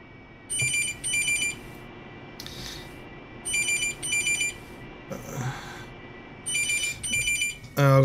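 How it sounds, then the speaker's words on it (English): A telephone rings in repeated pairs of short electronic trills separated by pauses, fairly faint and somewhat distant, with a quiet background hum between the bursts. "Oh, I've got the phone going."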